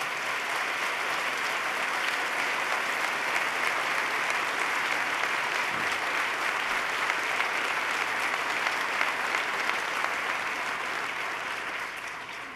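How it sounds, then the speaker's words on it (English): Sustained applause from a large audience at a state address in 2014, a dense even wash of clapping that holds steady for about twelve seconds and tapers slightly at the end. "Let's give Ben Lieberman a round of applause."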